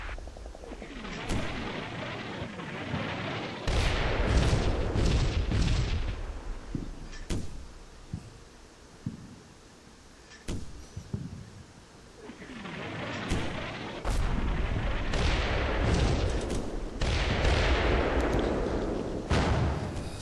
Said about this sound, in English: off-map artillery has started to come down